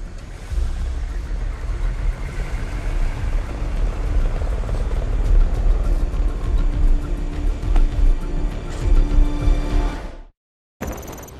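Helicopter in the Army of Two game, set in Afghanistan in 2001: a loud, steady low rotor-and-engine roar runs without pause for about ten seconds, then cuts out abruptly before a brief return.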